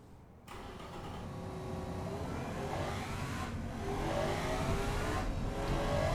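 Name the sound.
video game car engine on track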